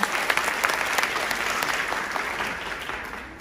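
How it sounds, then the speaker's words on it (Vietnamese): Audience applause at a launch presentation for the Sun Grand City Hillside Residence apartment project in Phu Quoc, a dense, steady clapping from a sizable crowd that slowly tapers off. "xin anh chị dành một tràng pháo tay một lần nữa dành cho những thông tin chính thức về dự án của chúng ta"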